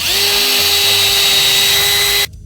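A power drill whines steadily as it bores a screw hole in a guitar pickguard, a loud, sustained high-pitched motor tone that stops abruptly near the end.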